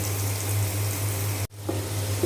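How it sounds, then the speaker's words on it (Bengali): Noodles fry in a pan with a little salt, a steady close sizzle that cuts out abruptly for an instant midway, then resumes more quietly. "এখন আমি এটা একটু ভালো করে ভেজে নেব।"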